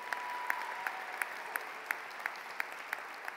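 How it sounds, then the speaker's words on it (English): Audience applause at a high school commencement ceremony, a steady, moderately loud wash of many hands clapping, punctuated by regular sharper claps from nearby, with a faint sustained tone early on. "give your principal a big round of applause if you would"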